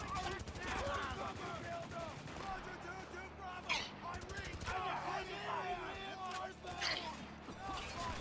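Gunfire and automatic weapon bursts in the shooter game Spec Ops The Line, dense and continuous over a busy combat soundscape with voices shouting over the shooting throughout.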